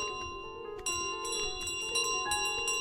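Small bell jingled by the goose carrying it in Untitled Goose Game, a video game, ringing in repeated bright metallic bursts over a steady tonal game background, with no talk.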